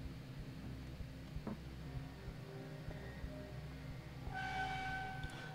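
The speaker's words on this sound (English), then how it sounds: "Why does it sound like a fucking train?" Low train-like rumbling in the horror game Fears to Fathom Home Alone, a faint steady drone with soft periodic thumps and a brief tonal swell near the end, heard alone without talk.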